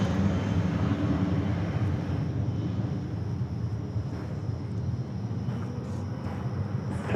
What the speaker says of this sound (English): BizJet takeoff.